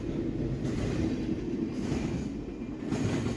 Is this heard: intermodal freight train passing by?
yes